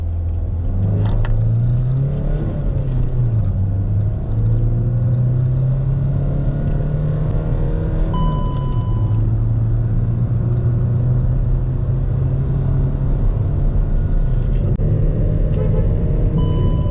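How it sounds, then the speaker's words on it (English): A 2020 Hyundai Verna accelerates hard from standstill, its engine rumble climbing through several gear changes, loud and close from inside the car. "Now let's do 0 to 100 acceleration."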